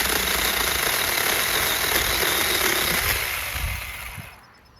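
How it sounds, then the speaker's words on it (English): A Sainlogic 6-inch mini chainsaw cuts through a tree trunk a little over 4 inches wide, giving a steady, loud buzzing motor whine close by that fades down toward the end as the cut finishes. "for this tree trunk that's just a tad over 4 inches wide, the Sainlogic 6-inch mini chainsaw works beautifully"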